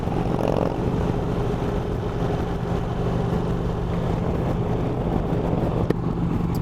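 An Indian Chief Vintage motorcycle cruises at steady highway speed, its even engine drone wrapped in constant wind rush at close range. No one speaks.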